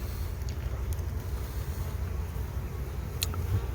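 Honeybees buzzing inside an open beehive, a steady low hum of many wings close by with occasional faint clicks and knocks, no talking.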